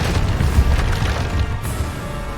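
Bombardo blasting-spell explosion in the video game Hogwarts Legacy, heard as a loud, deep, rumbling boom that lingers for a couple of seconds.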